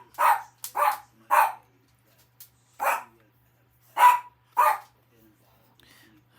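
A dog barks in six sharp, loud bursts spaced irregularly over a few seconds, close by and otherwise quiet, indoors during a polymer clay craft session.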